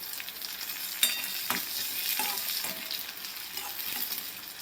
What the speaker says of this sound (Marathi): इथं आपण कांदा भाजणार आहे पहिल्यांदा